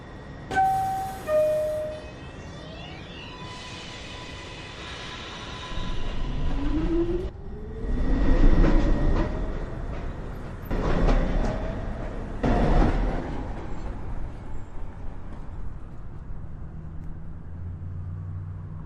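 A NYC Subway 2 train moves through Beverly Road station, with rumbling wheels and a rising roar as cars pass close by, brief squeals near the start and rhythmic clatter of wheels over rail joints.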